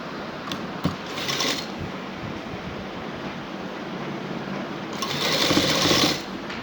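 Close up, a sewing machine hums steadily as it stitches a decorative neck design with piping, running throughout and surging faster and louder in two bursts near the start and the end.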